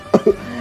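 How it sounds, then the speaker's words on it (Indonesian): A weak cough in a dramatic animated story scene, two short close coughs in quick succession with faint breathy background. "Batuk lemah tiba-tiba terdengar saat kedua wanita itu merasakan putus asa."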